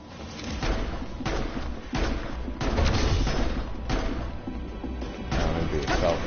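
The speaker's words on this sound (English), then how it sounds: "Land 3 shots with the handgun" Handgun shots fired in Final Fantasy 15, a run of sharp, punchy bangs at irregular intervals over a dense, busy game soundscape, loud and close with no pauses between the louder bursts.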